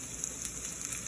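Scallion frying in hot oil in a pan for ramen noodle soup with meatballs, a steady, fine crackling sizzle with small pops, close and alone.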